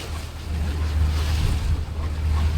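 A quiet four-stroke outboard engine on a beach boat used for herring drift netting at night in a swell hums as a steady low drone under wind and sea noise, continuous and close.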